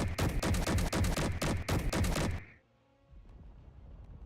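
MG42 machine gun in a video game firing a rapid, loud, continuous burst of rounds for about two and a half seconds, then cutting off abruptly into quiet mechanical clicks.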